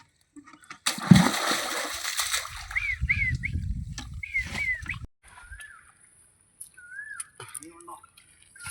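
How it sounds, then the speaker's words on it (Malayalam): Water bailed out of a fishing pit by pulling a rope lands in two loud splashing surges, followed by a quieter stretch with faint bird chirps. "മൂന്നോകത്തിപ്പ് വെള്ളമാണ് തേകുന്നത് ഈ കയറ് വലിച്ചിട്ട്"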